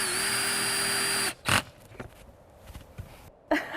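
Cordless drill in low gear driving a screw, a steady whirring motor for just over a second, then stops, followed by a few short clicks and handling knocks.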